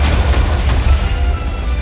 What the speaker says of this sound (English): And I blew up my cannon.